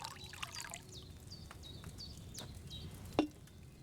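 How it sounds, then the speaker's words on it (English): Wine poured into a cauldron in the medieval video game Kingdom Come Deliverance 2, a faint trickling pour with small splashes and a brief clink near the end. "First, you have to pour the right base into the cauldron."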